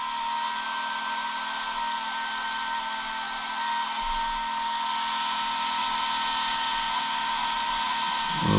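A small electric fan placed to blow air onto an engine gives a steady, even whirring hum with a constant airy hiss, close and unchanging throughout with no talk.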